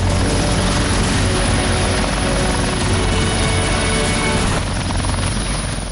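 A helicopter carrying a state minister arrives in Allahabad, its rotor producing a loud, continuous, broadband thudding roar that fills the whole stretch with no voices over it.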